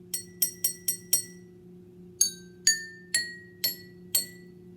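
Water-filled drinking glasses struck one by one with a tapper, a quick run of five bright clinks followed by five slower, ringing taps, each clear and close in a quiet room.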